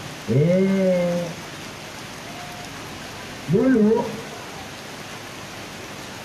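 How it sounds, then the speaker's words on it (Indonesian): Steady rain falls as a constant hiss throughout an outdoor religious gathering for the Prophet's birthday, with a voice speaking briefly over it twice. "hujan ini berkah"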